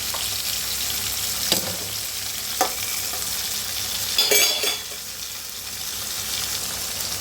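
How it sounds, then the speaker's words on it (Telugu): Tomatoes and green chillies cook in a pan for mango chutney, giving a soft, steady sizzle broken by a few clinks and scrapes of stirring. "టమాటాలు పచ్చిమిరపకాయలు మగ్గుతున్నాయి కదండి"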